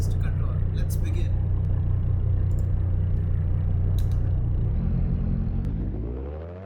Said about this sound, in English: I'm gonna go full throttle in the 1966 Monza full course lap